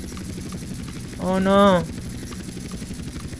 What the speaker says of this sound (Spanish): ¡Eso es un helicóptero!